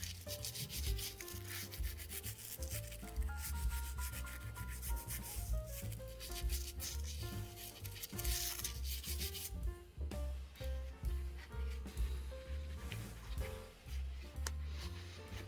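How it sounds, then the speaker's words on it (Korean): Cleaning solution rubbed over a camera body's rubber grip to lift white residue, soft repeated rubbing strokes close up, partly under light background music. "인덱스 용액은 휘발성이 강해서 금방 날아가기 때문에 골고루 골고루 부드럽게 문질러주고"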